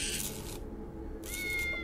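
A cat in the side-scrolling game Tales of the Neon Sea gives a couple of short meows with a brief quiet gap between them, heard close over a low ambient hum.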